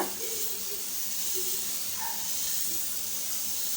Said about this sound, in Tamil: தோசைக்கல்லில் ஆயிலெலாம் அப்ளை பண்ணி ஹீட் ஆனதும் ரெடி பண்ண மாவை அப்படியே அடை மாதிரி விட்டுக்கலாம்